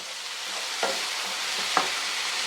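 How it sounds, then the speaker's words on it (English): Tomato going into a hot pot, a dense, even sizzle throughout with two brief utensil clinks against the pot, close and steady. "here is where we're going to go in with that tomato"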